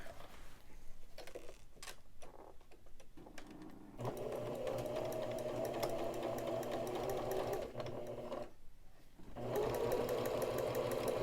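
A home sewing machine stitches a cloth face mask, its needle running in steady rapid bursts with brief pauses between runs, fairly close and alone without talk.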